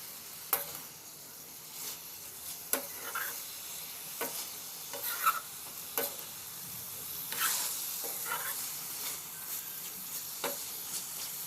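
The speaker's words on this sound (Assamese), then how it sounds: "মই তাত মৰিচা আৰু আলুখিনি যিখিনি ফ্ৰাই কৰি থৈছিলোঁ সেইখিনিও তাতে দি দিছোঁ আৰু ভালদৰে এতিয়া লৰাই দিছোঁ" A pan of tomato paste being stirred with fried chilies and potatoes, giving a steady close sizzle with scraping utensil strokes and soft clacks every second or two.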